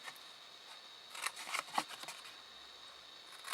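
Scissors snip through card while a Ferrero gift box for six chocolates and a mini wine bottle is made, a few quiet crisp cuts clustered in the middle of an otherwise hushed stretch.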